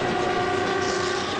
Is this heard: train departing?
yes